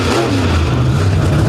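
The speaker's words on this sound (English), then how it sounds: "right there, he smokes the tires" A monster truck engine roars loud and close at an off-road jamboree over moguls and tabletops, revving steadily as its tires spin and smoke.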